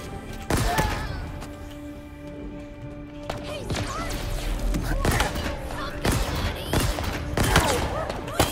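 Gunfire in the video game Halo Infinite, rapid sharp shots in bursts over continuous game noise and impacts, with someone talking over parts of the action.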